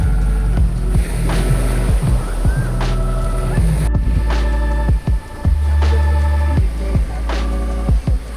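Waves slap and thump repeatedly against a boat hull over a steady engine rumble and wind noise, loud and close, at sea off the Dinagat Islands, Philippines.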